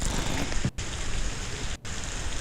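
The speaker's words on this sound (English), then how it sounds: "It's really rainy" Steady rain falls throughout, a dense continuous patter on surfaces, briefly cut out twice by short dropouts.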